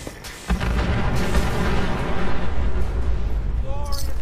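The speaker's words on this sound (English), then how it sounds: "there's all kinds of explosions going on" Fallout 4 explosions near a lighthouse rumble as heavy booms and a continuous low roar after a sudden onset, loud and dense, with a brief squeal near the end.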